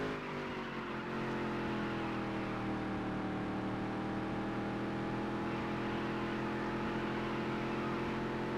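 Race car engine in the Dirt to Daytona video game, a continuous droning whine that holds steady and slightly shifts pitch heading into a turn, sustained and fairly quiet with no talking.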